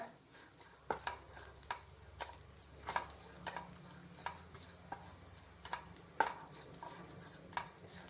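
Grated coconut is dry-roasted in a pan for a rice-flour marble sweet, soft scraping stirs punctuated by regular sharp ladle taps against the pan, quiet and close with a faint low hum.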